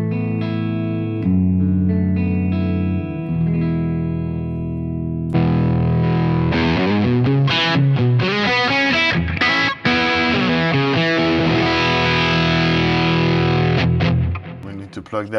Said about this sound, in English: Let's get started with just the line signal line out from the Quad Cortex so that you know what the preset sounds like